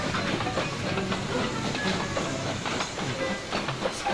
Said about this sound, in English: 6719 stopped himself and gave a whoosh of steam